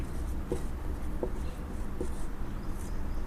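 Pen or pencil writing out a maths note, with soft scratchy strokes and three brief taps standing out against a steady low background hum.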